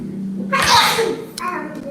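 A single sharp sneeze, close and fairly loud, bursting out after a moment of quiet, followed by faint room noise.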